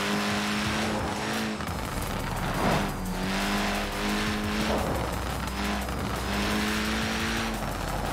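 Cars drag racing in Forza Horizon 4, a Peel P50 against a BMW Isetta: engines whine steadily at high pitch, with rising and shifting revs, tire squeal and a brief swell midway, loud and continuous throughout.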